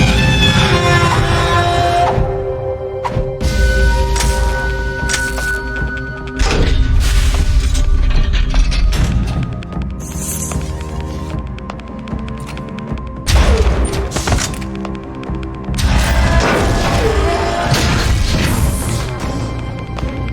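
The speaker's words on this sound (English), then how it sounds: "He destroyed the radome." Radome destroyed in Metal Gear Solid: repeated heavy crashes and booming thuds in bursts, loud and close, with debris-like clatter between impacts and no talking.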